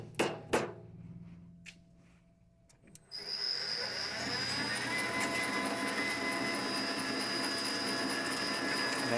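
A pipe threading machine starts after a few sharp metallic clanks and knocks, then holds a loud, steady grinding whir as the carriage advances material into the die head, with no talk.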